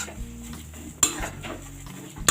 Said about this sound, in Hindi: इसको ऐसे ही थोड़ा सा भूनते रहिए